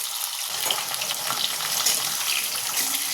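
Pointed gourds fry and are stirred in hot oil for stuffed potoler dorma, giving a loud, steady, dense sizzling hiss throughout.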